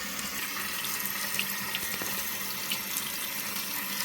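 Tap water pours steadily from a faucet into a sink as fresh raspberries are rinsed for a chocolate raspberry sundae topping, a constant close splashing rush with a few small clinks and no voices.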